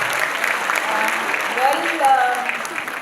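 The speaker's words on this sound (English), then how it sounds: "So a big round of applause for them, a big clap." Steady applause from an audience at a high school annual day fills the clip, with a voice speaking faintly over the clapping.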